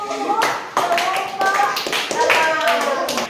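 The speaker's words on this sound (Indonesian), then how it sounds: "Oke, tepuk tangan dulu." Classroom of children clapping together on a teacher's cue, a brisk run of crisp claps in loose, uneven rhythm, close and lively, with a few young voices mixed in.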